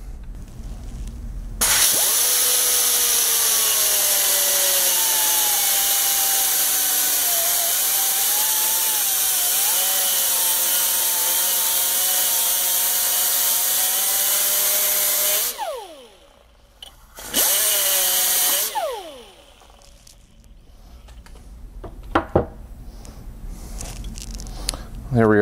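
A power tool runs loud and steady while cutting wire at an angle for a homemade wire insertion tool, whining for about thirteen seconds, stopping, briefly restarting, then going quiet apart from a few clicks.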